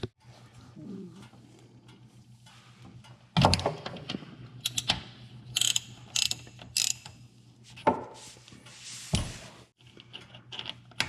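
Ratchet loosening a 21 mm oil drain plug on a warmed-up Arctic Cat ATV, with short bursts of clicking and metallic tool knocks, close and fairly loud, among quieter handling noises and a low steady hum.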